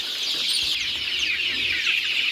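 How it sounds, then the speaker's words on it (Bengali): Tiger breed chickens cluck and chatter in a steady flock murmur, fairly close, without clear pauses. "অরিজিনাল টাইগার মুরগি, বড় বড় টাইগার মুরগি"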